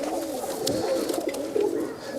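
Rajshahi local Giribaz pigeons coo close by in soft, rolling, repeated murmurs, with light rustling and shuffling around them.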